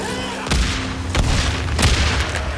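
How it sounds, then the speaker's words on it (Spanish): Pipe bombs go off in Days Gone, several heavy booms spaced roughly half a second apart, loud and close over a constant rumbling din, with a faint voice underneath. "Venga, bombas de tubo"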